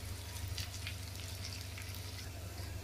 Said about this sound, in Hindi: अब सारे मसाले को मिक्स कर लें अच्छे से और इसको ऐसे चलाते रहें।